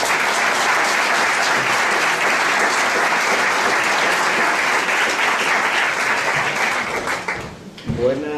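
Loud, dense applause from a lecture audience welcoming a speaker at a talk on Toledo's Roman theatre, sustained for about seven seconds before fading as a voice begins.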